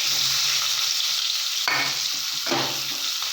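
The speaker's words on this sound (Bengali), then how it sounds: "তিনটে পেঁয়াজ কেটে রেখেছি এইগুলো এবার দিয়ে দেবো" Sliced onions fry in hot oil in a pan for a Bengali prawn and kochur loti dish, giving a loud, steady sizzle broken by a couple of stirring scrapes, with no talk.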